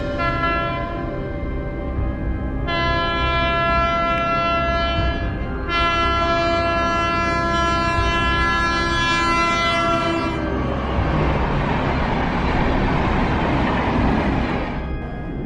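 A loud train horn blares in several long blasts over the heavy rumble and roar of a passing train.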